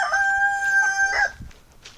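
A rooster crows once in a backyard chicken pen, a clear drawn-out cock-a-doodle-doo close by, followed by faint clucking and rustling with no talking.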